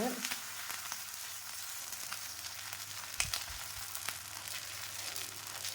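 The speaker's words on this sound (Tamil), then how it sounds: "இப்போ பாருங்கள் நம்ம தோசை ஊற்ற போகிறோம்" Kambu pesarattu, a pearl millet dosa batter, spread on a hot pan gives a continuous close sizzle, with a single dull knock partway through.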